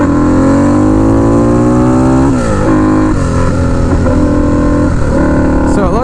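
A turbocharged Harley-Davidson V-Rod Night Rod running about 5 psi of boost roars loudly and close, revving up through rising pitch, then dropping sharply on gear shifts and climbing again, with the engine drone continuous throughout.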